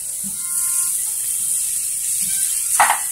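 Onion, garlic and broccoli sizzle in melted butter, a steady high hiss of frying with a brief clatter of a utensil near the end.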